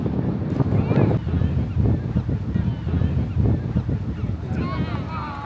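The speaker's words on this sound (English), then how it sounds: "So windy!" Strong gusts at the beach in Santa Monica buffet the microphone in a steady low roar, with a murmur of voices underneath and a brief honk-like call near the end.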